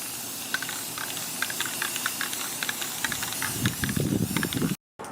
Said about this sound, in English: So we got our slime station spray painted.